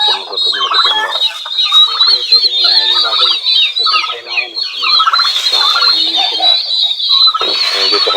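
A flock of turkeys, chickens and ducks clamours at feeding time on a farm, with close, loud, overlapping gobbles, clucks and squawks running continuously.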